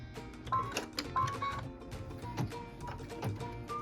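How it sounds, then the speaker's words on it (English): A sewing machine stitches a cut line across four pieced fabrics for an apple trivet, its rapid mechanical needle chatter running in short uneven bursts, close and fairly quiet with no voices. "So this is stitching the cut line so we can place piece number 5."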